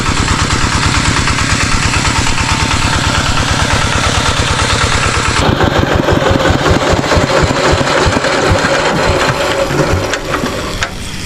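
A small engine runs loud and close with a steady, rapid chugging rhythm that shifts in tone about halfway through, with no voices.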